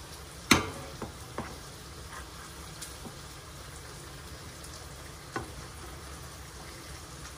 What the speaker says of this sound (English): just turn these over as best I can so that both sides will cook and brown